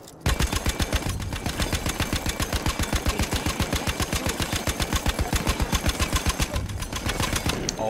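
Sustained, rapid machine gun fire aimed at a bomber in Battlefield 1, a loud continuous stream of evenly spaced shots running for nearly eight seconds with engine drone beneath.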